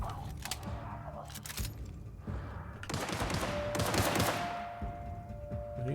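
Rapid bursts of gunfire from The Outer Worlds video game, a dense crackling fusillade of repeated shots with a steady electronic tone running beneath the later volleys.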